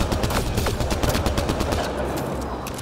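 Gunfire from the video game Mass Effect: Andromeda on PS4 crackles in rapid, irregular bursts of sharp shots with a heavy low rumble beneath, loud and close, then thinning out toward the end.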